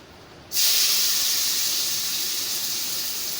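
Chopped onion drops into hot oil with cumin in a village kitchen, bursting into a sudden loud sizzling hiss that holds steady and slowly eases.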